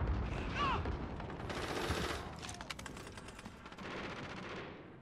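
Gunfire from the video game Call of Duty: Modern Warfare: rapid automatic bursts and scattered shots, dense at first and then in separate volleys, loud over a rumbling game soundscape, with no clear talk.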